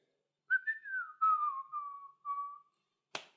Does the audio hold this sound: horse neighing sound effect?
no